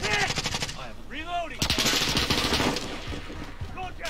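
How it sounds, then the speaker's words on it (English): Rapid video-game gunfire from a pistol in quick successive shots, loud and close, with a brief pause and a further volley, plus a faint voice under the shots. "I've got a headshot from the pistol"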